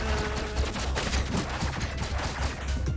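A dense, roaring burst of rapid firing from a flame cannon in the video game Owlboy carries on without pause, loud and close, like a heavy weapon blasting continuously.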